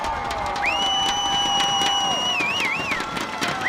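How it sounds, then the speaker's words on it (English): Football crowd at a McKinney North versus McKinney high school game, a dense roar of cheering with rapid rhythmic banging of thundersticks, loud and continuous, with a piercing whistle-like tone sliding over it. "Listen to those thundersticks. The thundersticks are abound as this crowd is absolutely nuts."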